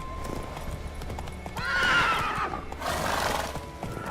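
A horse in The Witcher 3 video game clip-clops and whinnies, a loud neigh rising over steady hoofbeats, close and without speech.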